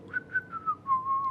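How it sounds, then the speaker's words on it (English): A person whistles a short wavering tune of several notes, fairly close and clear, with no talking over it. "Hey, no whistling."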